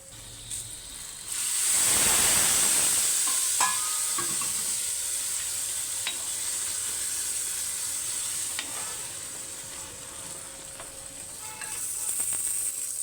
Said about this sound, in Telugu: తాలింపు వేగిపోయిందండి కమ్మట వాసన వస్తుంది ఇప్పుడు అందులోకి తిరగమూత వేసేసుకుందాం